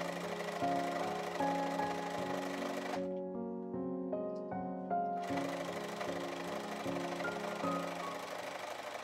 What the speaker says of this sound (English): I now sew all the skirt pieces together.